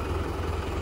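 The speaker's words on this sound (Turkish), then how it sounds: "Traktörümüz 70-56 olduğu için, 70 beygir bir traktör olduğu için" A 70-horsepower tractor engine drones steadily while pulling a five-row spring-tine ridging machine through a peanut field, a continuous low rumble with no break over the short stretch.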